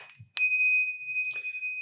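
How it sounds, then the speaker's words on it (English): A pub landlord rings a bell for last drinks: one bright metallic strike that rings out and slowly decays over more than a second, close and clear, with a faint voice just before it. "As our landlord rings the the bell for final drinks."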